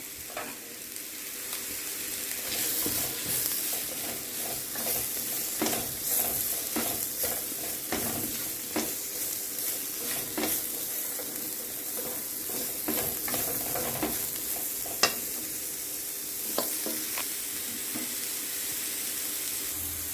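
Onion, escallion and carrots sauté in oil in a pan, a continuous close sizzle broken by frequent stirring scrapes and clicks, with a couple of sharper knocks.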